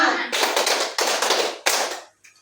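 Several hands clap together in a counted classroom clapping routine, three loud bursts of crowd clapping in quick succession, then a brief pause.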